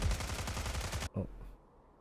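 Rapid gunfire bursts from the video game Counter:Side, a loud rattling volley that cuts off abruptly, followed by a single shot and fading quiet.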